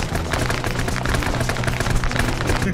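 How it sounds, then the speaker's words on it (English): Dense rolling gunfire mixed with booming explosions from an Arma 3 Vietnam War battle with the SOG Prairie Fire DLC, loud and continuous with no pauses, and no voices over the barrage. "Explosions all around me."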